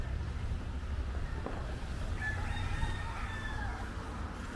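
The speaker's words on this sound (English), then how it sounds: "all these wild chickens just roaming around" A rooster crows in the distance over a low outdoor rumble, with faint clucking from wild chickens roaming a macadamia nut farm on Oahu, Hawaii.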